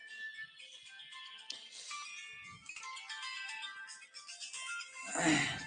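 A phone ringtone plays a bright electronic melody for several seconds, fairly loud and close, ending with a brief burst of noise.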